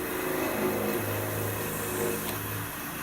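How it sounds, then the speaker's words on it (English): A wood lathe parts off a turned wooden ring holder near its base, giving a steady mechanical hum with a sustained tone that shifts pitch partway through and a faint scraping hiss above it. "We're going to part the wood away a little bit back from the base"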